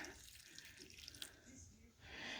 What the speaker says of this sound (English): Okay, so pour some water in.